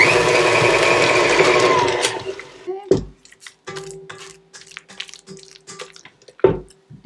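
An electric mixer whirs through vegan chocolate frosting of butter, cocoa powder and coconut milk for about two seconds, then stops. Scraping clinks and knocks in the bowl follow.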